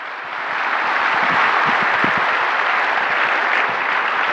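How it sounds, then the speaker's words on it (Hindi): An audience at a family diamond anniversary celebration breaks into applause, a thick, continuous wash of many hands clapping that swells in and stays loud throughout. "तो एक बार दोबारा से तालियां लगा के दिखाइए इनके लिए।"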